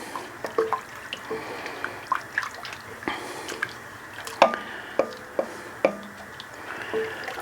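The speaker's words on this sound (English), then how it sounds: "Give it a stir." A spoon stirs a pot of chicken broth with bay leaves and fresh thyme for chicken and dumplings, giving soft, irregular wet sloshes and drips with small clinks, fairly quiet and close, with no voices.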